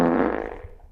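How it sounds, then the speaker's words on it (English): A single loud, close fart with a buzzy tone that fades out over about a second, heard alone. "Let me fart too."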